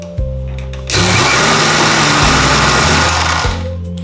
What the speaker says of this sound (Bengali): তাহলে আমরা বেটে নিচ্ছি